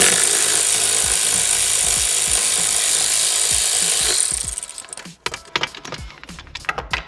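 Two 10 mm bolts come out of a C5 Corvette center console with a power tool: a steady, loud whir runs for about four seconds, then gives way to scattered close clicks and rattles.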